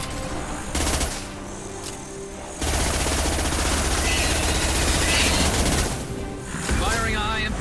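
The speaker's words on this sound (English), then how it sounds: "Firing a high impact shot." Gunfire in the Mass Effect Legendary Edition video game, a high impact shot during combat on Tuchanka, heard as loud bursts of rapid shots and booms that start abruptly and last several seconds.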